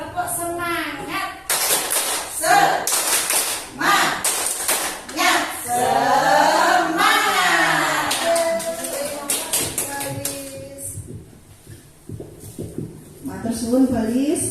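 Teachers in a workshop clap in short rhythmic patterns alongside a sung group chant, claps punctuating the loud voices, with talking resuming near the end.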